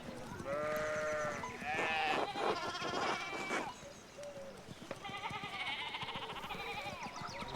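Sheep bleating in the video game Pentiment, several wavering calls in quick succession, then a pause and another burst of bleats, clear and close over a quiet background.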